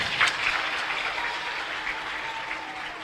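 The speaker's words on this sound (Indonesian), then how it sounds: "Tepuk tangan untuk para ibu." An audience at an Indonesian sermon claps for mothers, a dense, continuous burst of applause filling the short span at an even level without speech.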